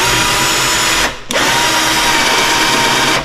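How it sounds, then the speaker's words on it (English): A power drill whines loudly and close, drilling through wooden blocking, running steadily, briefly stopping for a moment, then starting up again and grinding on until the end. "So I need to drill a hole through this blocking."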